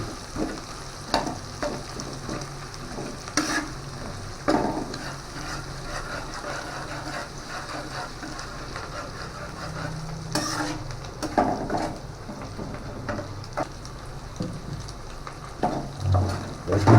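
Garlic sizzles in a pan while a spoon stirs it, a steady close frying hiss broken by periodic scraping and tapping strokes against the pan over about seventeen seconds, with no talking.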